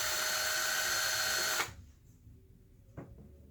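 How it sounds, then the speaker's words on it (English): A power drill with a 1/8 inch bit bores into a stucco wall, whining loudly and steadily for about a second and a half before it stops abruptly, leaving quiet room tone and a single small knock. "going to put that drill in just enough to get the screw in"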